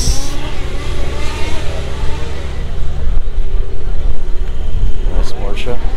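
A Porsche sports car engine revving as it pulls in at a breakfast car meet, a loud, close, continuous rumbling drone with people talking over it.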